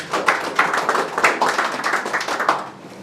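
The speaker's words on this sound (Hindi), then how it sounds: "एक तालियां जोरदार" Students in a live stock-trading class giving a loud round of applause, sharp rhythmic hand claps at close range, sustained for a few seconds without talk.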